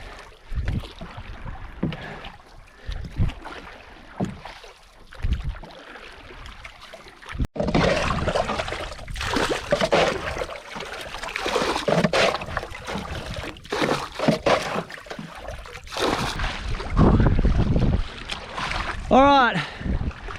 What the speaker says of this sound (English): I've been paddling for probably 40 minutes.